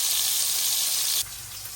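Fish fries lightly in a pan with a bright, steady sizzle that cuts to a quieter hiss about two-thirds of the way through, close by and without talk.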